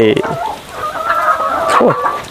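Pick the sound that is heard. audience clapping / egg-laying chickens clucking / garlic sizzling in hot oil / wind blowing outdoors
egg-laying chickens clucking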